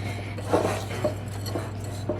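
Crushed Oreo-type chocolate cookie crumbs being mixed around in a bowl for a vintage 1963 chocolate mousse pie crust, a steady scraping, rubbing stir with a few louder clinks of utensil against the dish, close and alone.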